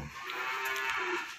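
Dairy cow mooing on a farm: one sustained, drawn-out low moo, moderately faint and heard alone over a quiet background.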